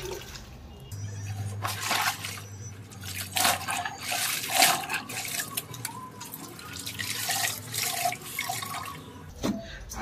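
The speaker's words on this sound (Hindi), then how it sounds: "इस तरह से हाथों से हम स्टार्च कपड़ों में और धीरे धीरे पानी निचोड़ लेना है" Starched white clothes are slowly squeezed and wrung out by hand, with water dripping and splashing in uneven bursts for several seconds, close and moderately loud with no talking.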